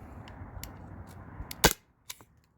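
One sharp, loud crack as a Byrna SD launcher fires its last shot, standing out against a quiet hum, with small clicks before it and a lighter knock after.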